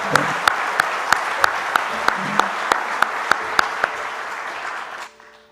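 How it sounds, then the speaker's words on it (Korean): Church congregation applauding during a Sunday worship service, a steady wash of clapping with sharp rhythmic claps standing out at a regular beat, fairly close and loud, ending abruptly near the end. "장로님 고맙습니다 라는 마음을 담아 박수부터 할까요?"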